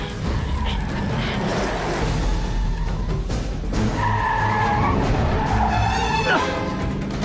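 A car driving too fast with tires skidding, loud and close, squeals rising over rough engine noise, with agitated voices shouting in German throughout.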